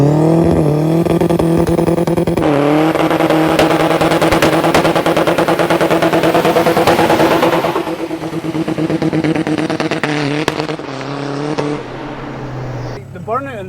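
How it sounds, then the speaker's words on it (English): Homemade Mazda RX-7 fitted with a Honda engine, a 4WD BMW gearbox and a welded diff, doing a burnout: a loud, sustained engine roar that rises and falls with revving, with voices talking over it. "So what days we'll do here, we'll do a burnout."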